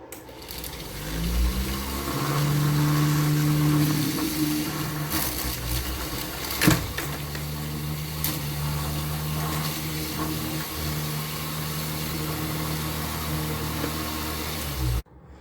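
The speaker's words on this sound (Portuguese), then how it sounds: "E agora vamos testar o motor." Homemade single-phase brushless motor running on a bench test, a steady electric whine with tones that rise as it spins up, then hold, with a brief clack midway and an abrupt stop at the end.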